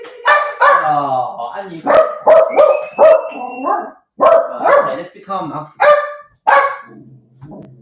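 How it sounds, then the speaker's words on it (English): Dogs barking in a home kitchen, short bow-wow barks and yips mixed closely with a person talking over them, fairly near and loud. "There's no kids, but there is dogs."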